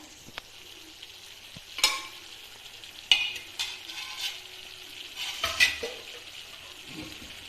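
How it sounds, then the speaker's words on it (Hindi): Lentils tipped into a pan of cooked spice masala and stirred, with a soft sizzle and frying hiss, several scraping stir strokes and light clinks of a spoon against the pan, fairly quiet and close. "तो मसाला तो पक चुका है, इसमें डालती हूँ मैं अब दाल।"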